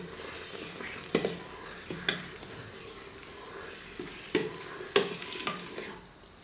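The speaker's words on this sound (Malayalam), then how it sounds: "നമുക്കൊന്ന് ഇളക്കാം." A spoon stirs fermented rice batter for appam in a bowl, making soft, wet swishing with occasional sharp clinks against the side. It is quiet and close, with no talking.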